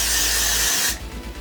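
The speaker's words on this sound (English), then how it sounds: "So you just want to go ahead and spray" A short burst of aerosol freeze hair spray hisses loudly for just under a second, then cuts off, leaving faint rustling and handling noise.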